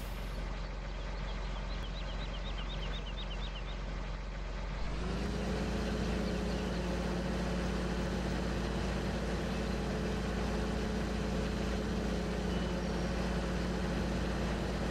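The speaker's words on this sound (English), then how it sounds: "The tractor can make it up the hill here anyway." A tractor in Farming Simulator 15 climbs a hill. Its engine drones steadily and loudly, then rises partway through to a stronger, heavier hum with a sustained low pitch. No talk is heard.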